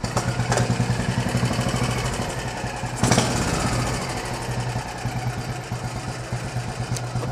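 A Royal Enfield motorcycle is kickstarted and runs in a steady, loud, thumping idle, a single-cylinder beat continuing throughout with a brief clunk partway through and no talk.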